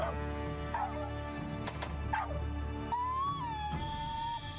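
A Palamute, the dog companion in Monster Hunter Rise, lets out short whimpers and whines over loud game music, a couple of high yelps early and a drawn-out whining tone near the end.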